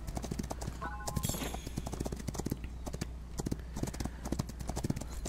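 Horse hooves clip-clop steadily in the Rival Stars Horse Racing video game, quiet and rhythmic, with a brief whinny-like sound and soft clicks in the background.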